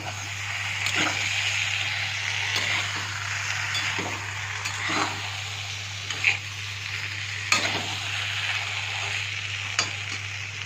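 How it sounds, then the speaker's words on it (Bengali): Potatoes going into meat being sautéed in a pan for a Bengali mutton curry, giving a steady sizzle with occasional spoon scrapes and clinks against the pot, close and without talk. "মোটামুটি মাংস কষানো হয়ে গেছে। এখন তার মধ্যে আলুটা ছেড়ে দেবো"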